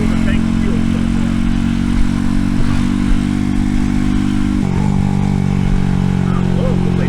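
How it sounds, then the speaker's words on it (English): An RPS Racer 140 motorcycle fitted with a new stainless steel exhaust runs with a steady, buzzy engine drone and a couple of brief shifts in pitch, loud and close throughout. "I love the way this thing sounds though. That exhaust kind of reminds me of the old Echo Kit chambers"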